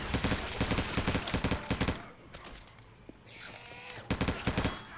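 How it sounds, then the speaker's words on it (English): Rapid gunfire bursts in the zombie shooter video game Left 4 Dead 2, loud clustered volleys of shots, a short lull with scattered game noise, then another burst of firing. "Get out from directly in front of me, Jamie, so I can click and not shoot you"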